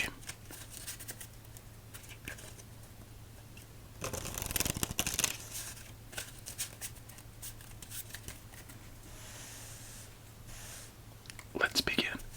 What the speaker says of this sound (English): Let's give it 2 more shuffles after that and begin